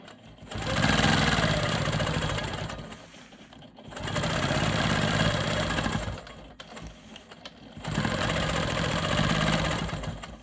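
A Quilt Maker Pro 20 quilting machine stitches straight lines across a quilt block, its steady motor hum running in three sustained bursts with brief pauses between them, close and fairly loud, with no talking.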